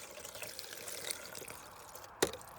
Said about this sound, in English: as that is pouring, it's filling up